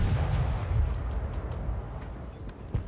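Heavy artillery fire in World of Tanks booms in a continuous low rumble, with a sharper distant shot near the end and no voices.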